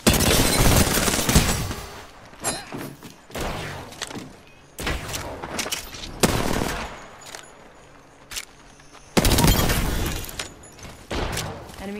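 Bursts of automatic gunfire from an Apex Legends match on World's Edge, loud sustained volleys separated by brief pauses, several broadband bursts of rapid shots across the clip.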